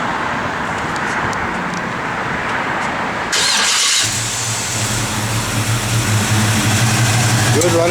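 A 1972 Chevrolet C10 shortbox pickup's 350 V8 cranks and catches midway, then settles into a steady, rumbling idle up close, with a person talking over the engine throughout.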